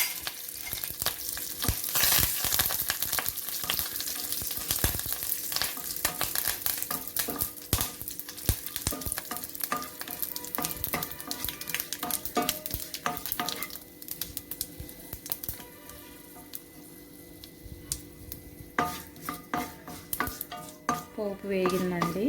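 Urad dal, dried red chillies and curry leaves sputter and crackle in hot oil in a pan for a tempering, with a steady dense sizzle, occasional stirring scrapes and pops close by.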